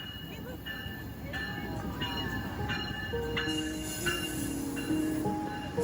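The California Zephyr passenger train rolls into a station, with a steady low rumble under thin, high wheel squeals and sustained metallic tones that come and go.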